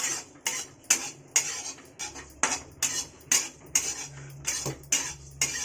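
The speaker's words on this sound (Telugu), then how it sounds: "ఇది ఒక 2-3 నిమిషాలు వేగనిస్తే చాలా" A spatula scrapes and stirs dried amla (Indian gooseberry) powder as it roasts in a pan, making about a dozen sharp, evenly spaced metallic scrapes and clinks, close and alone, with no voices.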